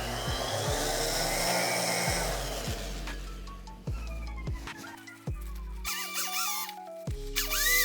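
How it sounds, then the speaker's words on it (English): A small rotary multi-tool cleans around the bolts of a vintage aluminum motorcycle engine, giving a buzzing whir in short bursts with scraping and clicking between them, close and moderately loud. "Clean out around the bolts here. A little multi-tool."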